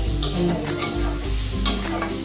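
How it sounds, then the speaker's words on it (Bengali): Ginger stirred in a hot pan for a soybean and ash gourd shukto, close loud sizzling with several quick scraping strokes of a spoon against the pan. "আদাটা দিয়ে একটু নাড়াচাড়া করে"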